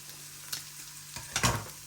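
Hoisin sauce stirred into chicken in a pan on a hob with the heat just turned off, a soft steady sizzle with a couple of brief scraping stirs, the louder one near the end.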